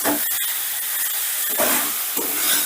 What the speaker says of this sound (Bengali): এবারে আলু আর মটরশুঁটিটা মশলার সাথে ধরো এই 2 মিনিটের মতন কষে নেব